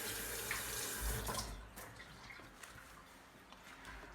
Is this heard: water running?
yes